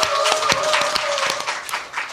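A studio audience at a Korean current-affairs talk show claps to open the program, a short burst of scattered hand claps with a faint tonal hum beneath and a few louder individual claps standing out.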